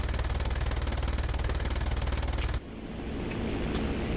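A long aircraft machine gun burst from a Ju-87 R-2 dive bomber in War Thunder, rapid evenly spaced rounds hammering for over two seconds before cutting to engine drone.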